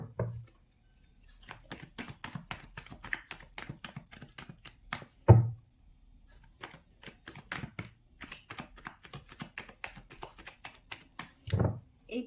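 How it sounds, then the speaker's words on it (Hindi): Tarot cards shuffled in quick rhythmic bursts of crisp flicking riffles, close and clear, with a couple of louder thumps as the deck is handled; no talking. "एक बारी और करते हैं शफल, देखते हैं क्या आता है"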